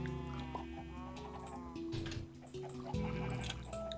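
Chickens in Minecraft cluck in short, soft bursts over a low, steady background hum, with a few trickling water sounds mixed in.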